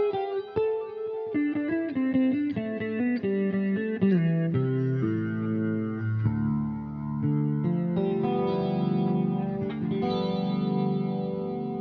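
An EART GW2 headless electric guitar played with two pickups combined, giving a clean, glassy tone: single notes and chord strums ring out with a chorus shimmer, lasting well over ten seconds and close up, with no talking.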